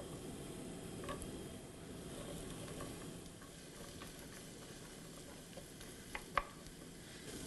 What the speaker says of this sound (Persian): یه مقدار روغن زیتون میریزم این تو، زیاد نه، و بعد پیازاشو میریزم که سرخ بشه